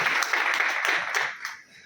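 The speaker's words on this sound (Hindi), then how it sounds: "एक बार बहुत जोरदार तालियों से हम इनका हौसला बढ़ाएंगे।" Audience applause at a Dehradun business meeting: dense, continuous clapping from a crowd, fairly loud and steady before thinning toward the end, with no voices over it.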